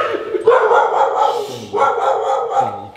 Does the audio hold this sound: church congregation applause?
no